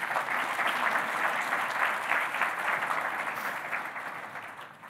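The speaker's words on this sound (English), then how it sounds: "Okay, sure, you can clap." A conference audience at a GNU Radio gathering claps after a project update talk, a broad steady patter of many hands at moderate level that slowly thins toward the end.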